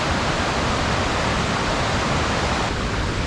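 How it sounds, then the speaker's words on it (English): Waterfall at the Falls of Falloch in Scotland, a steady, dense roar of rushing water that holds evenly throughout, close and loud with no talking. "you can probably hear the waterfall behind me"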